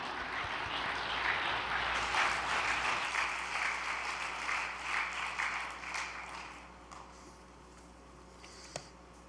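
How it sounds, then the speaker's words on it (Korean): Warm welcoming applause from an assembled congregation at an all-night devotional gathering, dense clapping for about six seconds before thinning out and fading into scattered claps and near silence. "뜨거운 환영의 박수 부탁드립니다"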